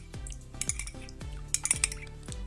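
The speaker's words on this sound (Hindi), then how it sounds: "दही के आपने इसमें 2 चम्मच आपने दही के मिला लेना है और अब इसको खूब मिक्स कर लेना है" A metal spoon stirs yogurt into a homemade herbal mixture in a bowl, with repeated scraping clinks against the sides in a quick, uneven rhythm, close and clear with no voices.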